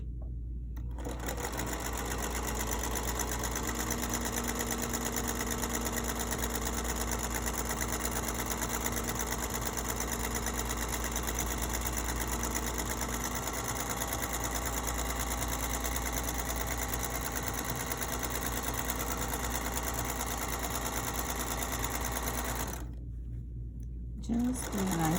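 A sewing machine runs a 1/4 inch seam with back tacking on a pillowcase, a steady close mechanical whir held almost unbroken for over twenty seconds before it stops briefly and restarts.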